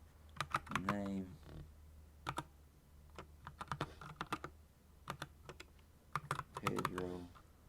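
Rapid typing on a computer keyboard comes in quick bursts of crisp, close clicks, with someone speaking between and over the keystrokes.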